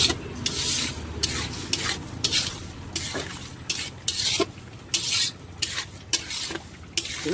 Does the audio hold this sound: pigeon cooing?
no